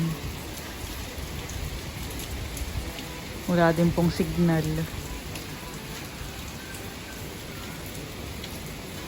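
Steady heavy typhoon rain pours down during storm Uwan, a constant wash of noise, with a short burst of voices rising over it partway through.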